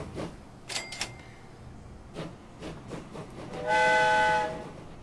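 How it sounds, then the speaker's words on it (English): An oil train in a Nordic rail game rolls past with rhythmic clicking and rumble over the rails, then a loud, sustained horn blast sounds near the end. "The oil train comes here."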